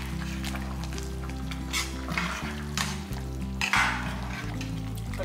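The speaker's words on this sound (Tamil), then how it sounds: "நல்ல ஒரு கிளறி விட்டுருவோம்" A thick chicken curry, simmering until its oil separates, is stirred in a pot. A spoon makes several scraping strokes over a low bubbling sound, with steady background music underneath.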